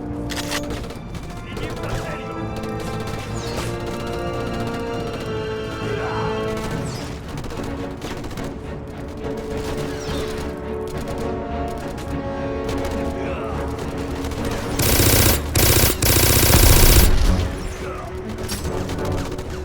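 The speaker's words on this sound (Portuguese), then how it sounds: "parece que os tiros deles, parece que eles sugam mais do que os tiros dos snipers lá na terceira fase" Gunfire from snipers in the PS2 and Xbox shooter Black, with repeated shots and crashing impacts over a dense game mix, building to a loud burst of fire near the end.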